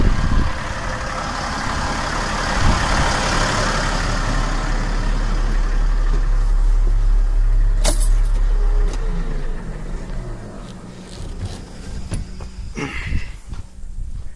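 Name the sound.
loader engine being shut off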